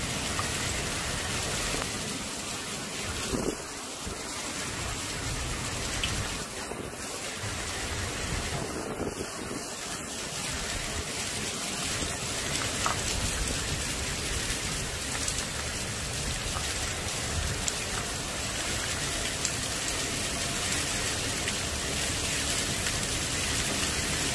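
Rain lashes down sideways in a derecho storm, a loud, steady roar of drops hitting surfaces with wind rushing through, continuous from start to finish.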